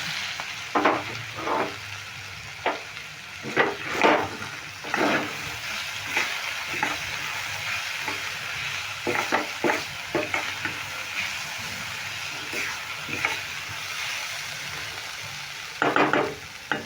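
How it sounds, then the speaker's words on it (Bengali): Vegetable filling for vegetarian rolls being stirred in a frying pan over medium heat, with repeated scraping stirs breaking through a steady low sizzle. "আমি নেড়ে নিয়েছি"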